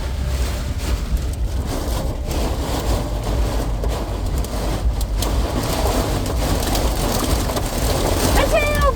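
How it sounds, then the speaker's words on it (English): Hail pelting a car while driving, a dense steady patter on the roof and glass over engine and road noise, with a voice speaking briefly near the end. "That's hail! Hail."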